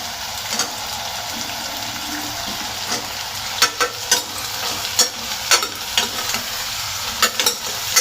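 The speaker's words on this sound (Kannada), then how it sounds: "ಈಗ ನಾನು ಹೆಚ್ಚಿಟ್ಟಿರುವಂತಹ ತರಕಾರಿಗಳನ್ನ ಹಾಕ್ತಾಯಿದ್ದೀನಿ." Chopped vegetables tip into hot oil for a paneer veg biryani, with mint already cooked in the pot. A steady, close sizzle hisses throughout while a spatula scrapes and knocks in scattered strokes. No one speaks.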